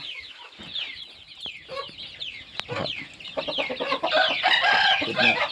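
Several hens, crossed with Yersinia-type chickens, cluck and squawk close by in a busy, overlapping chorus that grows louder toward the end.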